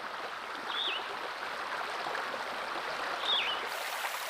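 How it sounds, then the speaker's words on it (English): A mountain stream flows in a steady, even rush of water. Two short bird chirps rise briefly above it. "Streams spring up from the lake, forming waterfalls as they descend"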